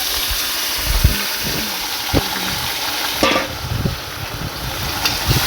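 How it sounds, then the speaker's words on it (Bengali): Potatoes and onions frying in a pan for a chicken dish, a broad hissing sizzle with occasional clicks and knocks of a utensil, close and fairly loud, without talking. "এবার এর মধ্যে এই যে এইরকম লাল লাল করে ভেজে নিতে হবে"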